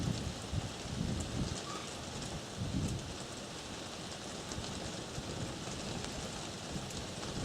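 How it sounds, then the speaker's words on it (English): Rain falls steadily at a fishing spot beside reeds, a dense close hiss of drops hitting surfaces with a few low thumps early on, continuous and moderately quiet with no voices. "Don't seem to mind the rain."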